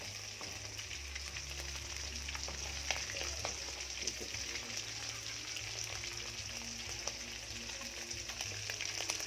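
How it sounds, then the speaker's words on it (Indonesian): Bird meat, a ruak-ruak waterhen, fries in a pan of hot oil, giving a steady dense crackling sizzle with scattered sharp pops throughout, close and moderately quiet, with no talking. "lagi goreng burung"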